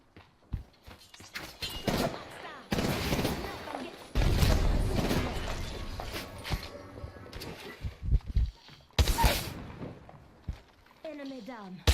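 Gunfire in the shooter game Apex Legends: several sharp, loud bursts and volleys scattered through a tense firefight, with footsteps and a voice talking between shots.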